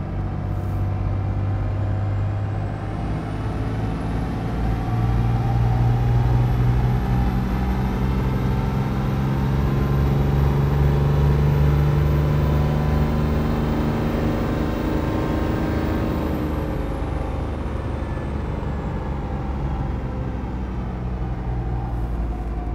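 A diesel truck engine runs under load on a dyno during an injection timing test, giving a loud, steady rumbling drone that builds and holds for about twenty seconds before easing slightly, with no voices.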